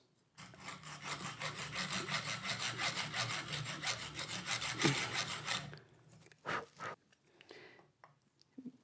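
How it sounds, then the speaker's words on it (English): A handsaw cuts across a wooden rollergun in fast, even back-and-forth strokes for several seconds, close and clear, then stops and is followed by a few scattered knocks and handling sounds. "Make a cut with a handsaw down to as far as just above your rail height."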